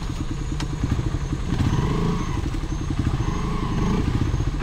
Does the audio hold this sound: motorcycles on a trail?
yes